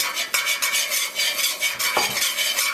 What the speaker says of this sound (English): Just keep moving it around, and it is important to use a metal spoon